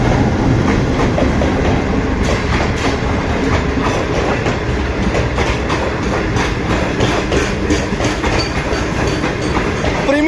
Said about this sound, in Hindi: 9006 की क़यादत में कराकरम एक्सप्रेस 42 डाउन लाहौर से कराची के लिए वाया फैसलाबाद